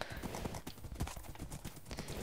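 Horse hooves clip-clop in quick, steady rhythm while riding in the Minecraft video game, fairly quiet and continuous throughout.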